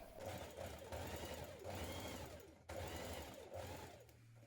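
A sewing machine runs a long gathering row of stitches through dress fabric. The hum is steady and close, with a short pause partway through before stitching resumes.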